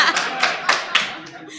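Four sharp hand claps from an audience at a conference plenary session, spaced roughly a quarter second apart, with laughter and murmuring underneath.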